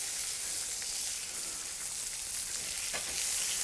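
Onions and sliced Roma tomatoes fry in a pan, giving a steady, even sizzle and hiss that runs the whole time, close and moderately loud, with a brief stir or scrape near the end and no voices.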